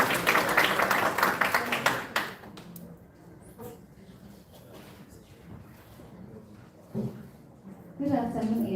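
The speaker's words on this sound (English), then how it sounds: "A big round of applause for her." Applause from an audience greeting a woman invited up to give welcoming remarks, loud and dense at first, then quickly dying away into scattered claps and murmurs before a voice begins.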